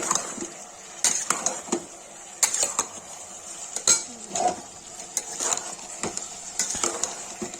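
A spoon stirs turmeric, red chilli and tomato in a cooking pan for a beans and mushroom curry, making repeated metallic scrapes and clinks over a faint sizzle, close and with no voices.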